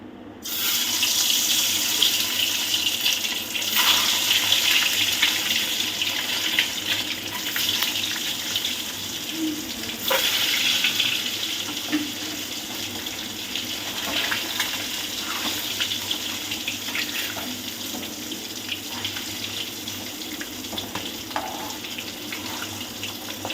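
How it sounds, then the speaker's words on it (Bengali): Eggs frying in hot oil in a pan, giving a continuous, dense sizzle and crackle that stays close and fairly loud throughout, with no talking. "তেলটা খুব ভালোভাবে গরম হয়ে গেছে, এবার আমরা ডিমগুলো"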